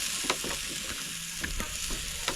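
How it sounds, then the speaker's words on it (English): Lamb shoulder chops sear on a charcoal grill over coals past their peak heat, a steady broadband sizzle with occasional sharp pops and crackles, close and continuous with no talk. "Now let's watch this sear."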